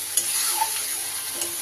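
An onion, ginger and garlic spice paste being sautéed for fish malai curry sizzles close by, with a few quick stirring scrapes of a spatula in a brief burst.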